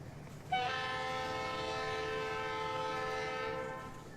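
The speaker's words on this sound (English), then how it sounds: "That's a very good honk." A single long train horn blast from a model train in the video game Rolling Line, starting abruptly and holding a rich, chord-like tone for about three seconds before fading, clear and alone.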